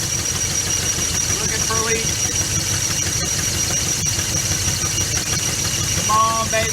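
A 1983 Chevy Silverado with a 350 engine runs with a loud, steady, rumbling idle after a fuel pump replacement, dense mechanical clatter throughout, with brief bits of voice under the engine noise.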